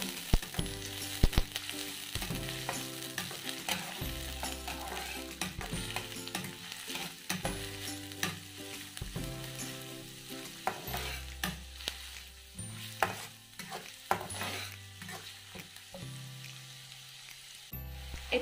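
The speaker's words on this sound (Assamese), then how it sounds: "আৰু এইখিনি ভালদৰে এতিয়া ভাজিম।" Mustard seeds and onion fry in hot oil for poha, giving a continuous close sizzle with the scrape of stirring throughout, and no talk.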